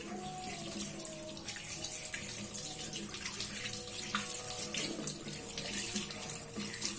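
Steady stream of tap water running into a sink, with occasional splashes and shifts as aloe vera leaves are rinsed under the flow.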